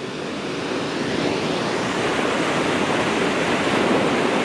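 Steady, loud roar of ocean surf on the Yakushima coast in Japan, with broadband wash of breaking waves, continuous and close, no voices.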